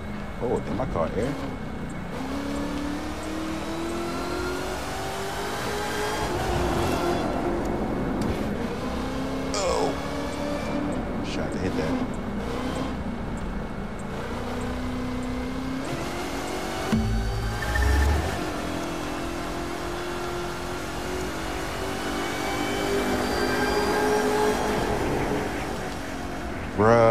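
A Corvette C7 ZR1 engine revs and drones in The Crew 2, rising and falling in pitch as the car accelerates over a snowy strip, with a deep thump near the end and someone talking over it throughout.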